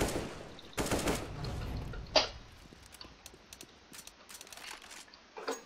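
Gunfire in a competitive shooter game, including AWP fire, with a loud sustained burst early on, a sharp crack a moment later, then sparse quieter shots and clicks scattered to the end.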